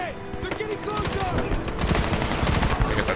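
Rapid bursts of gunfire, including machine-gun fire, from the 2010 video game Medal of Honor rattle continuously and loudly throughout, mixed with a voice and other game sounds.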